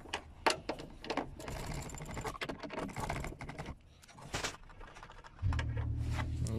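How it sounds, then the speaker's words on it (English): Electric ratchet spinning on the strut bolts of a 1992 Toyota Corolla with a 4A-FE engine, a run of quick clicking bursts up close, then a steadier low motor whir near the end. "It's easy if you can have a electric ratchet, so it's gonna be easier and faster too."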